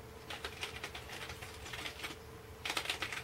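Typing on a MotoSpeed K70 mechanical keyboard, a rapid, uneven run of crisp key clicks close to the microphone, steady through most of the stretch and turning louder and denser near the end, with no speech.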